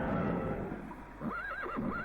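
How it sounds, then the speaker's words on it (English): A monster's cry in the PS1 game Digimon World sounds like a horse's neigh, a short, loud, quavering whinny rising and falling over about a second. "Why did he sound like a horse?"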